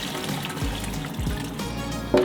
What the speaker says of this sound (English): pour the mixture into your brine well.